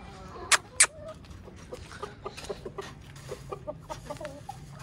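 Hens cluck softly in a series of short, close calls, with a couple of sharper squawks near the start over faint background noise.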